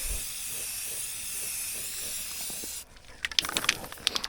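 Spray paint hissing steadily onto a homemade four-wheel-steering vehicle, a continuous loud airy spray that cuts off partway, followed by scattered clicks and knocks.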